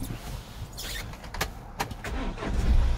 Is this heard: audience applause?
no